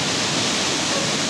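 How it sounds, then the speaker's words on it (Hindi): The Nurkha waterfall, with water rushing down from a height, gives off a steady, loud, broadband roar. It continues unbroken throughout and no one speaks. "कितना ही ऊंचा यहाँ से वाटरफॉल है, मतलब इतना तेज यहाँ से पानी नीचे आ रहा है"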